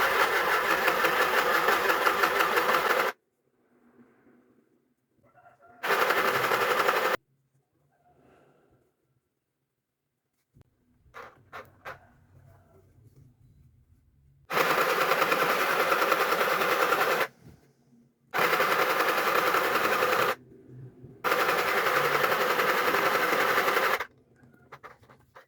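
A portable mini sewing machine stitches a pillowcase in several loud, steady whirring bursts separated by pauses with quiet handling of fabric.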